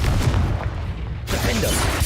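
A Confringo explosion spell fired in the video game Hogwarts Legacy: a dull booming blast with a rumbling tail, then a second burst of noise partway through, short and fairly loud.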